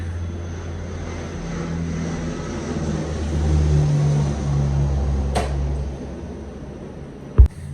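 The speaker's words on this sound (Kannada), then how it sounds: "ಫ್ಲೈಟ್ ಹೋಗ್ತಾ ಇದೆ." A steady low engine drone of an aircraft fills the clip, swelling slightly in the middle, with a sharp knock near the end.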